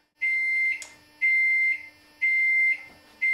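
An oven timer beeps three times in a steady rhythm. Each tone is loud, clear and long, with even gaps between, and no one talks over it.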